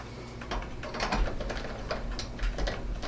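Screws being turned into a Lian Li V3000 PC case, a quiet run of small ratcheting, clicking mechanical sounds close to the microphone with no talking.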